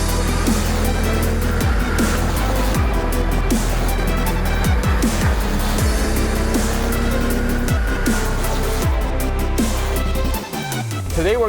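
A 1975 Porsche 930 Turbo engine drones steadily as the car drives Mulholland Drive, with repeated rising and falling revs as it shifts gears, loud and close throughout.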